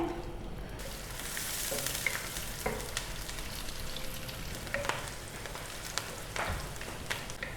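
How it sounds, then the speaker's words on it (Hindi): Sliced onion fries in hot ghee for a kofta gravy, browning to golden, giving a steady close sizzle and crackle with occasional stirring scrapes and no voices. "प्याज को हमने यहाँ पर गोल्डन ब्राउन कर लेना है।"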